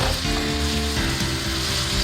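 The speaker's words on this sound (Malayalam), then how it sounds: "ഇനി നമ്മൾക്കിതിലേക്ക് തക്കാളി ഒന്ന് ഇട്ട് കൊടുക്കാം" Finely chopped sour tomatoes drop into a hot pan for a shrimp dish, producing a loud, dense, continuous sizzle that fills the whole stretch with no one speaking.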